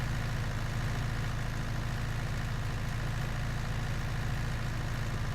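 A tractor engine idles steadily in Farming Simulator 19 during field cultivating, a continuous low rumble with a regular throbbing pulse, close and constant for the whole stretch with no talk.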